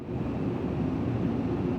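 The Drake Cutter spaceship's engines in Star Citizen spool down as a steady, low, breathy hum, a continuous wash of rumble with no distinct pulses, held evenly for under two seconds.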